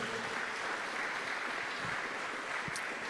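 Church congregation giving a loud round of applause to the Lord during a sermon, heard as a continuous, fairly distant wash of clapping with no clear voices.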